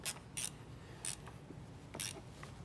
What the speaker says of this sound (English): Now we're gonna tighten this down here. That's our 14 millimeter on a ratcheting wrench.